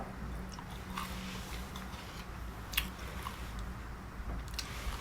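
Crunchy snack being bitten and chewed close by at a parents' home, a steady rough munching texture with a sharper crunch near the middle, no talking.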